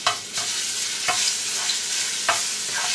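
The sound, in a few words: garlic browning in hot oil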